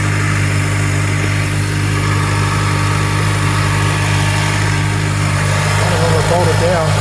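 A 2003 Honda car engine hunting at a high idle, a steady droning hum with a faint rising and falling whine toward the end, heard close and continuous.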